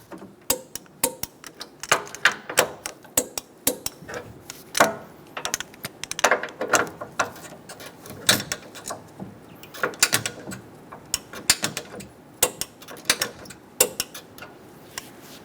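Torque wrench tightening side bumper bracket bolts on a 2014-2018 Chevrolet Silverado 1500, a long run of rapid ratcheting clicks in uneven bursts, close and fairly crisp, with no talking.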